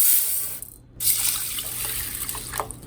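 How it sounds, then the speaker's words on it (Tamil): Soaked toor dal lentils are rinsed in water, a close, loud splashing and sloshing with a brief pause and some clinks against the vessel. "இதை நல்லா ஒரு 2 தடவை கழுவிட்டு வந்துடுறேன்"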